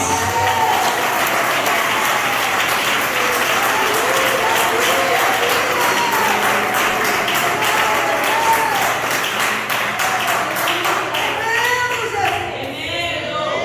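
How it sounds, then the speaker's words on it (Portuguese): A church congregation claps hands in worship, a loud continuous wash of applause held for over ten seconds, with a voice talking faintly beneath it and tapering off near the end. "A igreja glorifica com as palmas."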